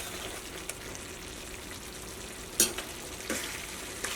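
Chicken sizzles steadily in a pan with garam masala added, a constant frying hiss broken by a few sharp stirring scrapes near the end.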